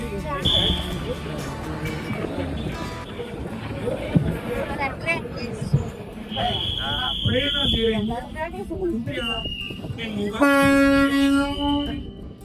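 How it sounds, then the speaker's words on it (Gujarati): A Vande Bharat train pulls into a busy Dhasa railway station, with a horn sounding over crowd noise and people talking nearby throughout. "જો વંદે ભારત આવી ગઈ છે મિત્રો"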